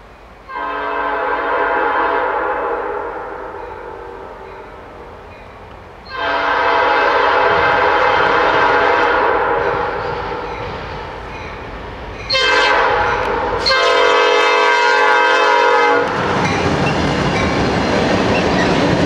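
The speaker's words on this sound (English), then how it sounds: "this should be NS 907 headed east on track 1" Norfolk Southern freight NS 907 passing eastbound, sounding several long, loud horn blasts separated by gaps, with the rumble and clatter of rail cars rolling by close at hand.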